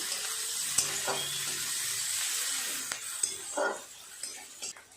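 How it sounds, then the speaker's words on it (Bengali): Chopped onion frying in a pan for katla fish kalia, a steady close hiss of sizzling oil throughout, broken by a few scraping stirs and light utensil clinks against the pan. "পেঁয়াজটা ভালো করে নেড়ে চেড়ে ভেজে নেব"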